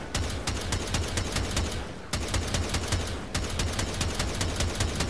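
Rapid semi-automatic rifle fire from the Semi weapon in the Warframe video game, set on the Plains of Eidolon: steady, evenly spaced sharp shots in two long bursts with brief pauses, loud and close with no talking.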